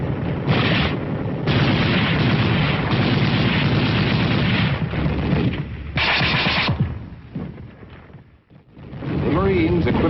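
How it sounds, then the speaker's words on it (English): Infantry small-arms fire and artillery crash through a 1950s battle, with dense bursts of shots and booms overlapping in near-continuous loud volleys that briefly thin out before resuming. "from the ridge line, sparked by the Marine Brigade, foot soldiers unleashed their fire"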